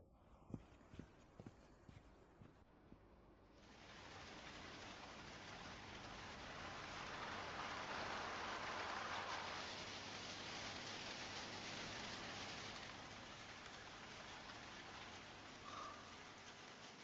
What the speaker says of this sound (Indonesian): Hujan deras selama beberapa hari.